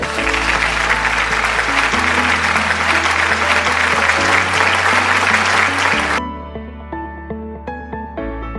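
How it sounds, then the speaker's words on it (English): A crowd applauds loudly and steadily, the clapping fading as a few sustained musical tones carry on at the end. "give yourselves a big round of applause"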